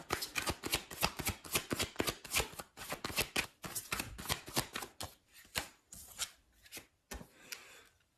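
Tarot cards are shuffled in rapid riffling bursts, crisp close flicks coming in quick bunches, then slowing into a few separate slaps and shuffles near the end, quiet and alone.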